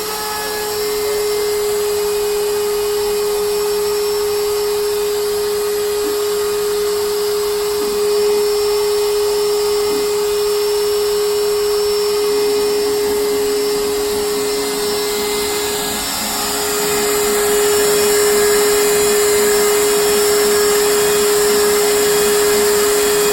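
An Inventables CNC machine's spindle carving a part, heard as a loud, continuous high-pitched whine and airy roar that holds steady close to the machine for the whole stretch, with no talk.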